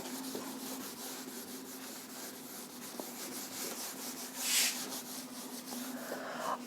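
A duster rubs chalk writing off a classroom board during a physics lecture, giving a steady dry scraping hiss for several seconds, with one brief louder swipe partway through and no talking.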